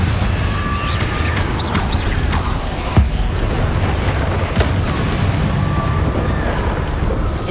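Confringo spell explosion in the game Hogwarts Legacy: a booming blast with a sharp hit near the middle, set against a steady rushing, wind-like roar that stays loud throughout.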